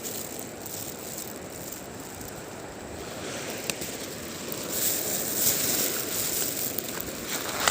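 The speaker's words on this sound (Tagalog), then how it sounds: "Tabing dagat." Waves wash steadily onto a seashore near low tide, a broad continuous rushing surf that swells slightly louder toward the end, with some wind and no talking.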